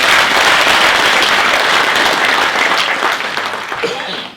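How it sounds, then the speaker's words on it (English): A large audience at a university STEM festival and symposium in Palapye bursts into loud, sustained applause for a vocal group, the dense clapping holding strong before easing slightly toward the end. "May we please give them a round of applause again?"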